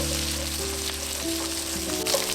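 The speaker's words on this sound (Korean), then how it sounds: "꽈리고추를 넣고 같이 또 볶아줍니다." Shishito peppers and garlic cloves stir-frying in hot cooking oil, a continuous close, loud sizzle with crackling, nothing spoken over it.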